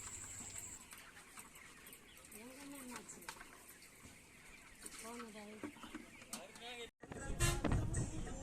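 Chickens at a village poultry farm cluck and call in short, repeated bursts, fairly close, with faint talk in the background and a sudden louder rustle near the end.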